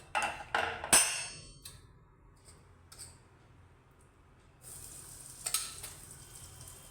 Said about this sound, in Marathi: त्याच्यामध्ये थोडासा मी हिंग टाकते, हिंग आणि हळद